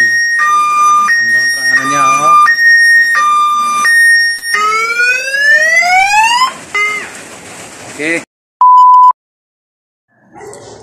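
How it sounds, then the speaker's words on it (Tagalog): A homemade motion-sensor anti-theft security alarm for a coin-operated internet shop blares loud, close electronic tones. It cycles through pulsing and rising sweeping wails, then cuts out, gives a short steady beep, and ends with a brief chirp. "Ayun, nag-alarm na siya ha."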